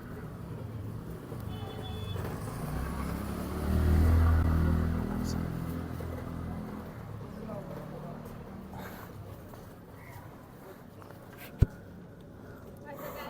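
A motorcycle engine rumbles steadily, swelling louder for a few seconds before settling back, with a sharp click near the end.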